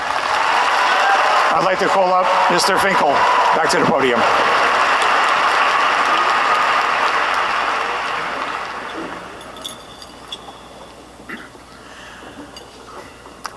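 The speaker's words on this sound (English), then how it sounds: "Let's have a big round of applause." A crowd applauds at a high school graduation ceremony, with loud, sustained clapping that fades out after about eight seconds, then a voice speaks over a microphone.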